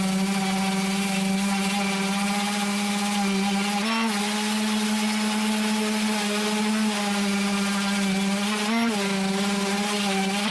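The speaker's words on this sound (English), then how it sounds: "Let's sand it down to 120." Electric power sander running on 120 grit sandpaper, a loud steady motor whine with a strong hum, continuous and close, with brief shifts in pitch as the pressure changes.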